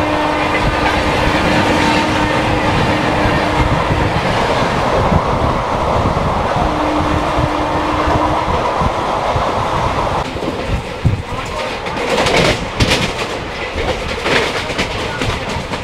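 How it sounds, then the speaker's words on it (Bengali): A Kolkata–Digha special train races along the rails, its steady, loud rumble and clatter continuing throughout with no break. "ট্রেন চলছে ঝড়ের বেগে।"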